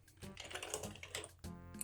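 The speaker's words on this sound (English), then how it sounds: "I want to do a speed test on this keyboard." Fast typing on an early Microsoft ergonomic keyboard during a speed test: quick, irregular clusters of close, crisp key clicks and thuds with brief pauses, fairly quiet overall.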